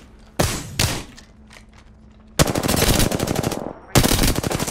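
Bursts of automatic gunfire in the Apex Legends video game, with short separate shots followed by long rapid bursts, loud and close with brief pauses between them.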